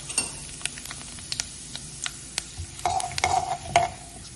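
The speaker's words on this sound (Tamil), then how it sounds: "சீரகம், சோம்பு, கடுகு 3 மிக்ஸ் பண்ணி வச்சிருக்கேன். அதை போட்டுக்கலாம். நல்லா பொரியட்டும்." Cumin, fennel and mustard seeds fry in hot oil in a pan while making masala dosa, giving soft crackles and scattered pops close by, with a brief sizzling burst near the end and no talking.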